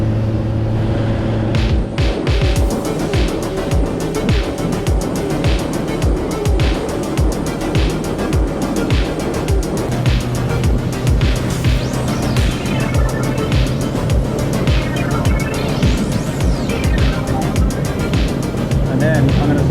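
A RIB's outboard engine revs hard and drives the boat up onto the plane offshore, a loud, steady motor roar mixed with hull slap and wind, with people talking over it throughout.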